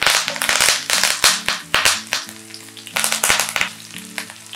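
Curry leaves with dried red chillies and green chillies dropped into hot oil for hotel-style lemon rice, crackling and spitting loudly in close bursts over a steady hiss of frying.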